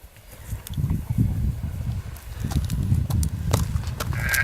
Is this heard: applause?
no